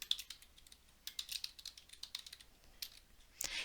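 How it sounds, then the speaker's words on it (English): Rapid clicking of fingers typing on a computer keyboard, nearby and steady, with short pauses and a louder burst near the end, no talking. "So we'll type the name."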